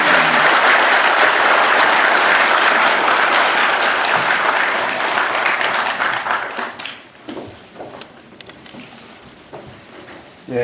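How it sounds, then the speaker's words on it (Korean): Applause from an audience at a Korean political forum greeting a keynote speaker, loud dense clapping that holds for several seconds and then tapers off into scattered claps. "큰 박수로 문재인 전 대표님을 맞아주시기"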